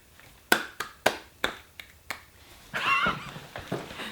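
Finger snaps, jokingly dubbed one hand clapping, ring out close and alone in an uneven run of about eight crisp clicks, followed by a brief rustling smear of sound near the end.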